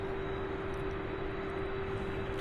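Airliner climbing steeply after takeoff from runway 17R at Louisville International Airport, a loud, steady broadband jet roar with a constant tonal whine, sustained and unbroken throughout, with no talking.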